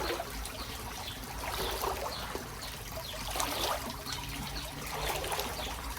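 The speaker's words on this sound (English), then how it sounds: "Right, warm shower now." Warm shower water running outdoors by the Sussex coast, a steady, close trickling and splashing stream with soft fluctuations, continuous and moderately quiet, with no talking.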